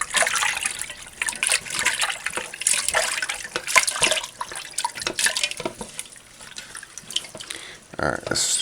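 Tap water runs steadily at close range while chicken feet are washed in a sink, with splashing and uneven surges of flow throughout.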